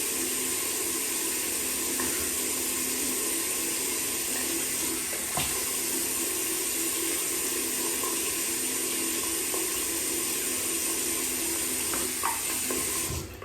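Water runs from a tap into a bathroom basin while hair is being wetted, a steady close rushing splash with a few small knocks and shifts in the flow. It continues evenly throughout.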